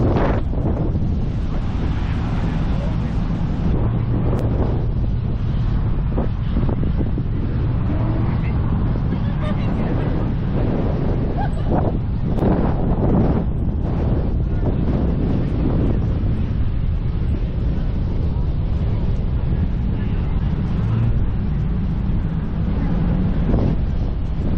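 Strong wind gusts blast across an open speedway, blowing sand and dust in a loud, continuous roar of buffeting wind noise, with faint voices occasionally under it.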